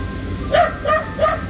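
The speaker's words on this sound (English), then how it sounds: "the neighbor dog barking at me" A neighbor's dog barks three times in an even rhythm, moderately close, each bark short and clear over a low steady outdoor hum at a Christmas yard display.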